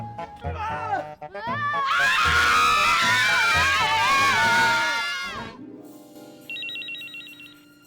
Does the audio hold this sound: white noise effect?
no